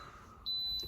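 An Instant Pot set to saute mode gives a single sustained high electronic beep, starting abruptly partway through and holding to the end over a quiet room.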